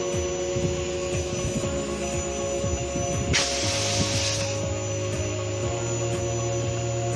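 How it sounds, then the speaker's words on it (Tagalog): A Panasonic air conditioner compressor with an F99 error gives a steady electrical hum with a high tonal whine throughout, joined by a brief hiss midway and a lower droning note that settles in. "Sabi sa akin ni Sam, yung compressor daw nito, hindi daw ganito katining yung tunog"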